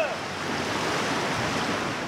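Swift-moving river water rushes during swiftwater rescue training on the Ogden River, a steady, broad roar of current with no break and no talk.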